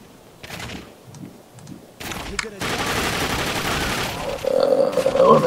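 Gunfire in the video game The Darkness II, with scattered shots early on followed by a dense, loud burst of rapid fire and impacts that keeps building toward the end.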